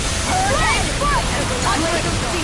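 A water spell erupts in the action RPG Tales of Arise, a loud, sustained rush of sloshing, surging water that fills the whole moment, with voices and tonal effects sweeping over it.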